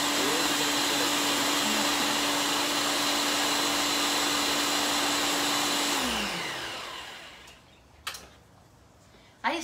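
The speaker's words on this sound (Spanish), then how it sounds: "Ya no se tiene que licuar tanto porque nomás es que se muela la piña y el" A blender whirs steadily as it blends pineapple with cream cheese, a loud constant drone that winds down and stops near the end, followed by a couple of faint clicks.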